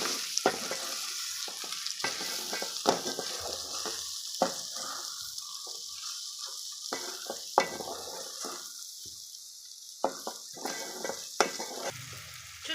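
Prawns fry and sizzle over a low flame while a utensil stirs them in the pan, with repeated scraping strokes over a steady hiss, close and clear, no talking.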